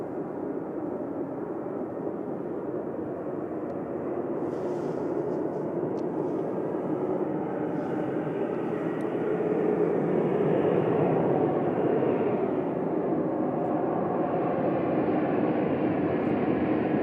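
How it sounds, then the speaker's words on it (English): Air France Airbus A220 rolling for takeoff at Manchester Airport, bound for Paris Charles de Gaulle: a steady, broad roar of jet engines held distant, swelling slightly louder partway through and sustained to the end, no voices. "On the roll, Air France off to Paris, Charles de Gaulle, A220"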